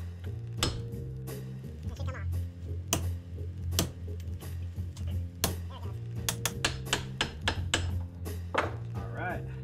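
An aluminum punch tapped against a splined shaft on a 420cc Predator-powered articulating 4x4 dump truck build gives irregular sharp metallic ticks and knocks. A steady engine-like hum runs underneath throughout.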